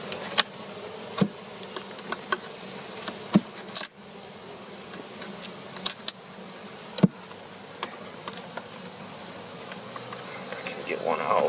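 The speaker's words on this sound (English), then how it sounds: "You hear 'em buzzing?" Honey bees swarm and buzz around an open first-year hive with Flow Frames during an October honey harvest, a steady close hum broken by sharp clicks and taps of hive handling throughout.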